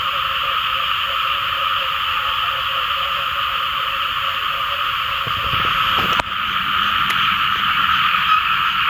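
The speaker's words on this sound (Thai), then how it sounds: "กบเขียดห้องขนาดเนาะ" Dense, continuous croaking of many frogs fills the air over steady rain noise at rice fields during the first rain, loud and unbroken, with a brief crackle partway through.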